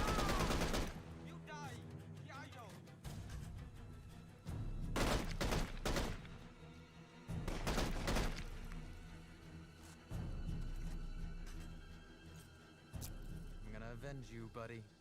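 Gunfire from an AK-47 in a first-person shooter game, heard as repeated loud bursts of automatic fire separated by short pauses, with quieter ambient game sound between volleys.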